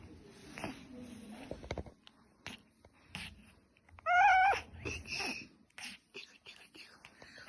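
An injured domestic cat hit by a car near a road gives a loud, wavering meow mid-clip, with weaker cries and soft hushed whispering from people nearby around it.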